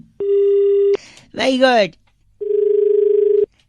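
A phone call cuts off mid-prank with steady electronic tones, a long beep before and after a short burst of excited talk, the second tone pulsing slightly until it stops.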